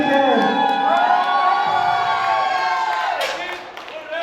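Audience at a staged Bharat-Bahubali play for a birthday-eve celebration bursts into loud, sustained cheering, whooping and clapping from a crowd, with children's shouts mixed in throughout.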